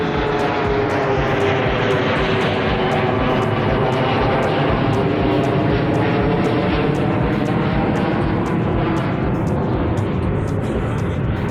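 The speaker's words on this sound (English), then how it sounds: "There's a plane above, let's wait for it." An airplane passing overhead near the airport in Kigali, a loud continuous engine roar close above that holds steady for the whole stretch, with no one speaking.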